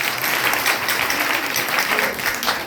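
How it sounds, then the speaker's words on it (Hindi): A church congregation claps loudly for Jesus Christ, steady dense applause filling the room without a break from start to finish. "एक बार जोरदार ताली बजाएंगे यीशु मसीह के लिए।"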